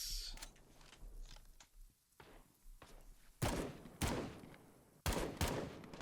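Gunfire in the Call to Arms video game: sharp, loud bursts of shots crack close by in quick succession, with a few softer thumps and distant reports between them.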